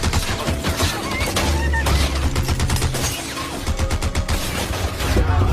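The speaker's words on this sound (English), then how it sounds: "at that moment Bogue began firing his Gatling gun at the town" Rapid, continuous bursts of Gatling gun fire from a film scene, loud and dense throughout with booming low rumble beneath, the shots fired at a town.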